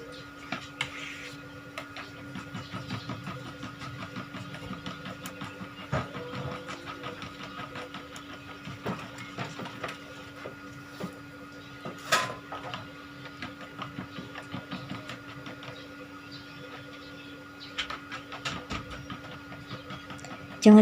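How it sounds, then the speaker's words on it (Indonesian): Eggs are beaten in a bowl with a whisk or fork until the yolks and whites mix evenly, while making pandan moss pudding. The clicking is rapid and steady for about twenty seconds over a low background hum. "telurnya ini kita kocok lepas sampai semuanya tercampur rata"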